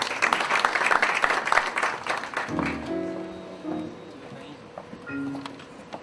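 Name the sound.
audience applause at an award ceremony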